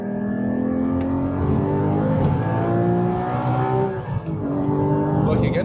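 A Porsche 981 GT4 engine revs hard and climbs through the gears, loud and steady throughout, with a brief dip near the end before it pulls again; a voice talks over it.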